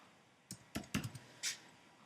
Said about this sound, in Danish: taster I også her.